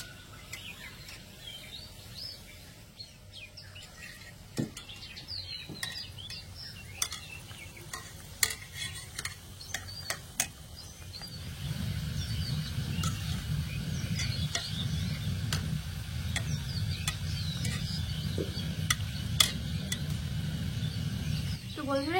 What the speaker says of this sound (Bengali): এই কেকগুলো আমি উল্টে পাল্টে লাল করে ভেজে নেব